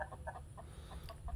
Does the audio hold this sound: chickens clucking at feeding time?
yes